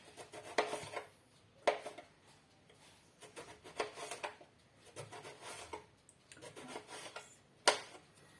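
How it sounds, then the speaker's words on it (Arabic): A knife slices an eggplant into rounds on a cutting board for frying, giving a series of crisp, separate cuts and scraping strokes at an uneven pace, close and moderately loud, with no talking. "دابا غنقطعو دواور بحال هكا"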